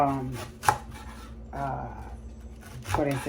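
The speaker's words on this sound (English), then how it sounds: "we do a little very thin slices of red onions" A very sharp knife cuts thin slices of red onion on a board, giving a few close scraping, rasping strokes and a sharp tap, while a voice talks faintly underneath.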